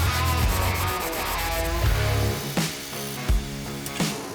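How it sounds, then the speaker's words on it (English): Scraping sanding strokes across the deck surface of a Gen 3 Hemi engine block around the cylinder head-gasket area, loud, close and continuous with rough rhythmic rubbing and a few sharper scuffs. "we spent some time cleaning up the surfaces on the block, mainly right around where the head gasket would seal the cylinder"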